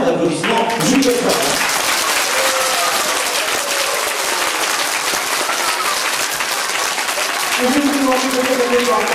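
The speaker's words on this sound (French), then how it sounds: "Je vais vous demander d'applaudir avec un tonnerre d'applaudissements" Thunderous audience applause after a children's orchestra mini-concert of Dvořák tales by the Bordeaux orchestra, a continuous wash of clapping with a voice briefly heard at the start and again near the end.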